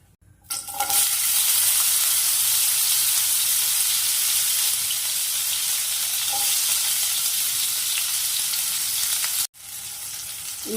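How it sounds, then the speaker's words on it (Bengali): Bitter gourd frying in hot oil, a steady loud sizzle with occasional stirring, after the same oil was used to fry lentil dumplings for shukto; a brief dropout near the end before the sizzle resumes. "এবার এই তেলেই উচ্ছেটা ভেজে নেব।"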